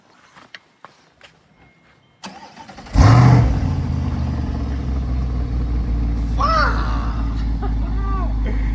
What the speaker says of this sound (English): Can I start it from the key